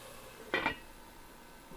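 A lid is set back onto a pan of smothered hamburger steaks cooking with onions: one short, quiet metallic clank, then a second brief knock right at the end, in an otherwise hushed kitchen.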